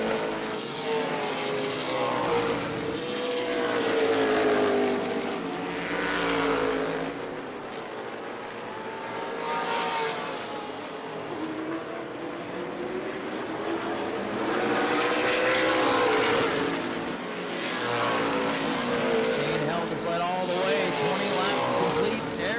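Modified race cars roar around New Smyrna Speedway in a weekly race, their engines swelling and fading in repeated waves as the pack passes, with a commentator talking over the engine noise.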